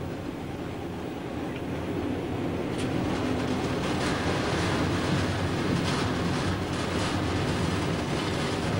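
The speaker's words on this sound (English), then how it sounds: "the driver must now reverse the train back for a distance of approximately half a mile" A freight train reverses along the line before a full-power run at the 1 in 68 Chinnor bank, giving a steady rumbling roll with wheel and wagon clatter that stays close and loud throughout.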